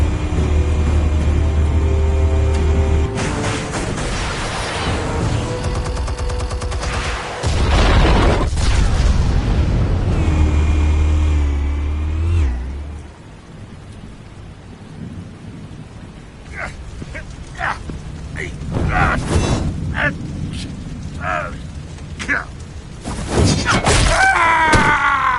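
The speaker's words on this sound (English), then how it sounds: "Explosives armed. Fire when ready." Heavy explosive detonations in Batman: The Telltale Series, deep rumbling booms filling the first half with a sustained low roar, then fading into scattered debris crackles and smaller bangs before another loud blast near the end.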